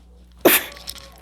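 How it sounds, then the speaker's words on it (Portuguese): A single sharp human sneeze, close and fairly loud, bursts out briefly in a quiet room and fades quickly, with no other sound around it. "Desculpa, gente, eu vou espirrar."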